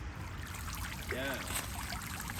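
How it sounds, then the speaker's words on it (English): A small waterfall trickles into a backyard koi pond, a soft, steady splashing and dribbling. A brief voice-like sound rises faintly in the middle. "Got a little waterfall going"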